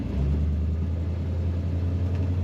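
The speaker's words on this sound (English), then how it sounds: "Great rumble to that exhaust." Deep, steady low rumble of a 1955 Chevrolet Bel Air's exhaust idling nearby, throbbing evenly without revving.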